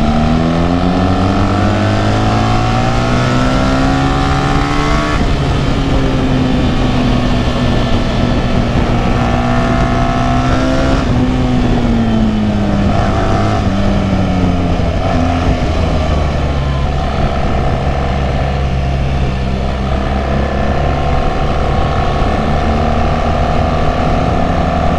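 BMW R1300 GS motorcycle riding on the Interlagos circuit, a loud, close engine drone whose pitch rises and falls with gear changes and throttle, heavy wind roar underneath throughout.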